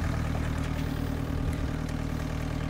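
A boat motor runs at a pier in Kaliningrad region, giving a steady, close, low engine drone with a constant rumbling hum throughout and no voices.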